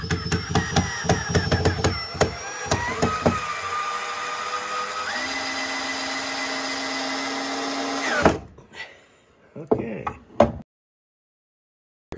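An electric drill bores holes to take number 8 screws in an antenna assembly, a whining motor run with shifting pitch for several seconds, preceded by sharp knocks and followed by a few clunks and then silence.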